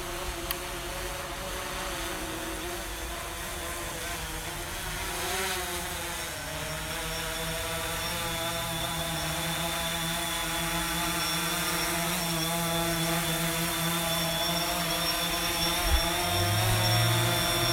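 A DJI Phantom 3 SE drone whirs steadily as it flies and comes in to land, its rotor drone continuous and fairly loud throughout with a slight rise near the end.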